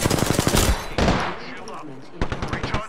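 Rapid automatic gunfire in an Apex Legends match, loud close bursts of shots at the start and again near the end, with a player talking in between.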